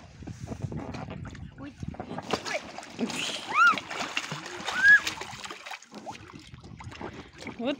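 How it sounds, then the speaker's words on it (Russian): Water splashing and sloshing in a swimming pool, intermittent bursts with children talking and shouting throughout, a couple of brief squeals rising over the splashes. "Вот плескуха."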